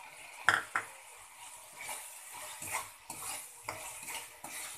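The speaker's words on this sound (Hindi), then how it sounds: "तब तो मैं इसमें डाल देती हूँ बीन्स और गाजर इसे मैंने पहले ही बॉईल कर लिया है और अब हमें इसे मिला लेना है" Boiled beans and carrots stirred into fried spices in a pan for soybean, potato and pea curry, heard as a few sharp utensil clinks and scraping stirs over a faint low sizzle, no talking.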